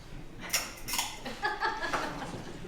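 A bar spoon stirs an Old Fashioned cocktail in a glass. Quick, close clinks and rattles of ice against glass come in short bursts over a soft, hushed background.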